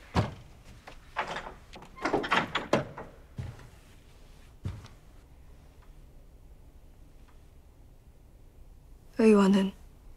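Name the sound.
door being opened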